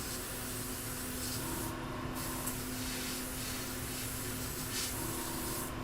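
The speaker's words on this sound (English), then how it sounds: "This stuff sprays really nicely" An airbrush spraying lacquer paint for scale models gives a steady, close hiss of air and atomised paint, continuous throughout with slight shifts in intensity and no voices.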